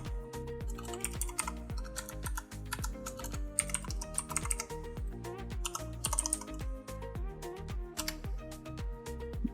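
Steady computer keyboard typing with dense, rapid key clicks running throughout, including a Ctrl Shift A key combination, close and continuous over a faint background with no speech.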